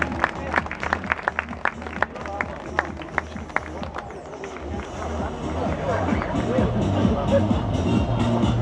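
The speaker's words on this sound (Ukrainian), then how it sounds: "Аплодисменти." A hall crowd applauds at the opening of the ELECTRON OPEN tournament, with sharp separate claps at first that swell into a steady, dense wash of clapping and crowd murmur.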